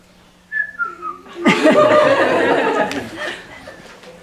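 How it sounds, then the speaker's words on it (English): A person at a public speaking contest whistles a short, casual tune of a few notes. Then the audience breaks into loud, sustained laughter. "Whistle, like this."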